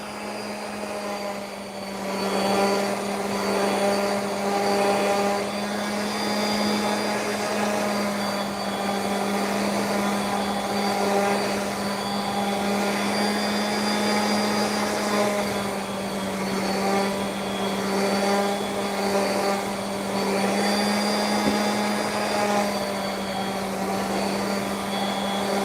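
Router cutting a round-over edge on a wooden cutting board, a loud steady high-pitched whine that runs almost nonstop, with slight dips in load as the bit moves along the edge.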